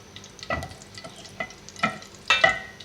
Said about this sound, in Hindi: इसमें मैं इलायची डालूँगी